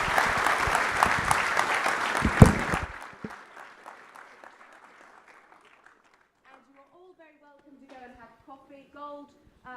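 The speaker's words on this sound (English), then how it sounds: "So please do give them a round of applause." Applause from a conference audience at an air and space chiefs' gathering, dense and loud for about three seconds before fading out, followed by quieter sparse sounds and faint voices.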